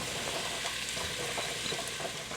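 Three small garlic cloves and half a chopped sweet garden onion sauté in butter and oil in a Dutch oven, making a continuous, close, even sizzle with faint stirring, and no voices.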